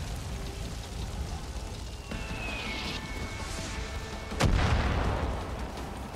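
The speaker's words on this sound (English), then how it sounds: "fire's fucking spreading." Fire spreading in the video game Far Cry 5: a dense, continuous crackling roar, joined by a sudden loud burst partway through that fades back into the steady crackle.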